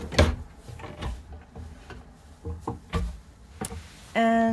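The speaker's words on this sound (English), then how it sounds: "And silverware drawer." A silverware drawer in a Little Guy Mini Max camper trailer slides and knocks in several sharp wooden clunks and rattles, followed by a brief steady electronic tone at the end.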